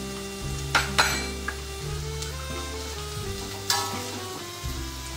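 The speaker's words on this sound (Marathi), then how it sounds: "कांदा आणि गाजर परतून घ्यायचे आहे" Onion and carrot sautéing in a pan, a continuous sizzle with a steady low hum underneath and two or three sharp utensil clinks against the pan, close by, no talking.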